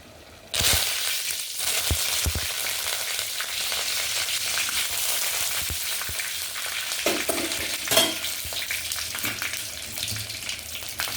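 Tempering of black gram dal, cumin and dried red chilli frying in hot oil for a bottle gourd kootu: a sudden loud sizzle that keeps crackling steadily, with occasional stirring clinks and pops, close up.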